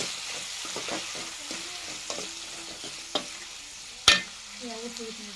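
Chopped tomato sizzling and frying in a pan for an eggplant curry, with steady soft frying hiss, scattered stirring clicks and a sharp utensil knock near the end.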